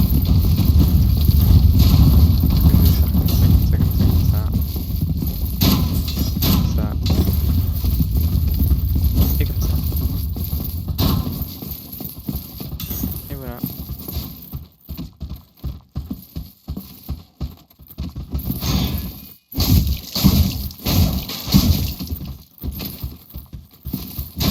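Footsteps echo through the floor in the dark fantasy video game Dark Souls Remastered, a steady patter of clopping steps over dense, rumbling game ambience that thins out toward the end into sharper, separated impacts.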